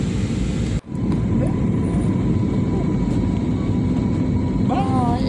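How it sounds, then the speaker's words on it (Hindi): Inside the cabin of a passenger airplane landing on a trip to Hawaii, with a continuous loud engine and air roar, a brief dip near the start, and faint voices over it. "हमारी फ्लाइट लैंडिंग कर रही है।"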